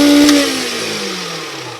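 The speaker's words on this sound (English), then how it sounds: "I mount it up so I can start trimming this with the lathe." A wood lathe turns a slimline pen blank, its motor giving a steady tonal whine that slowly drops in pitch as it winds down, with no talking.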